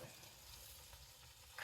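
Taco filling sizzles steadily in a pan during van-life cooking, a soft, even frying hiss throughout with a slight rise at the very end.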